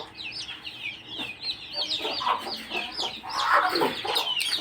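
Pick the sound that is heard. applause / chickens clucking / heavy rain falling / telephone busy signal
chickens clucking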